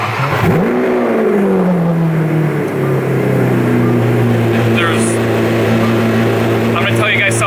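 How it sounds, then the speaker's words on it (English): Lamborghini V12 fitted with a decatted, straight-piped titanium exhaust, revving loudly up and then settling into a steady, deep drone close by, with a second harmonic line sweeping alongside. "There's nothing better than a decatted, straight piped titanium exhaust on a V12."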